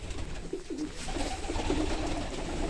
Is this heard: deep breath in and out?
no